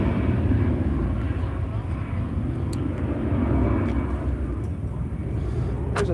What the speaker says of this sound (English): we're right on the takeoff path for the airport